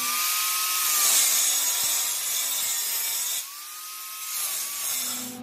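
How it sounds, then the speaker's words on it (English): Loud, steady grinding whine of a power tool cutting through metal pipe for a mud motor steering handle, its pitch dipping under load with a brief pause midway. "I'm going to cut this pipe down now"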